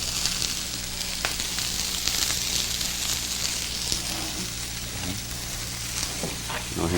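Cherry tomatoes and garlic sizzle and fry in a hot pan, a steady close crackle with occasional stirring clatter throughout, with no talking over it.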